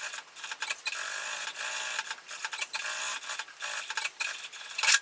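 A domestic sewing machine stitching synthetic leather for a crossbody bag runs in a steady close whirring hum with rapid needle clatter, pausing briefly a few times, with no talk.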